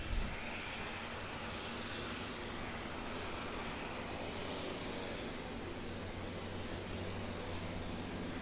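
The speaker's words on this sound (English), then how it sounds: "Just got a Barrier Air Cessna 208" A Barrier Air Cessna 208 turboprop drones steadily at Auckland Airport, a continuous moderately distant engine roar with no talk over it.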